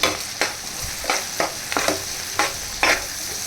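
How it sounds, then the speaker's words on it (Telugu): Ginger, turmeric and salt fry in a pan for a prawn curry, with a steady sizzle broken by several sharp, evenly spaced stirring scrapes close by, and no talking. "అల్లం మిశ్రమం అంతా మంచిగా మిక్స్ అయ్యేటట్టు కొంచెం కలపాలి."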